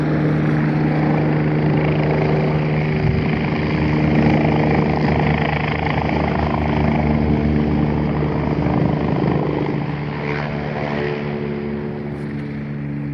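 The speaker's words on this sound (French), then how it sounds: "là, ça a un bruit d'hélicoptère." Low rhythmic rotor thrum of a helicopter, steady and moderately loud, lingering overhead before easing slightly toward the end.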